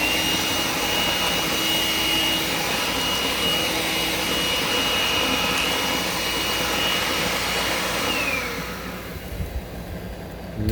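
A Makita 18V LXT cordless vacuum runs with a cyclone separator, sucking up sawdust near a table saw with a loud, steady whine. Toward the end the motor winds down and the sound fades out.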